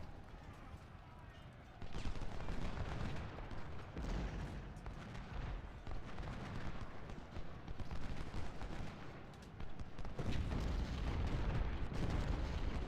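Artillery batteries fire in the Civil War strategy game Ultimate General: Civil War at the Battle of Shiloh, as a dense rumbling barrage of booms and crackling gunfire, fairly faint, with a voice talking over it.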